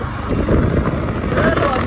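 Motorbike ride with a passenger aboard, loud buffeting wind noise over a low engine rumble throughout, with people talking over it.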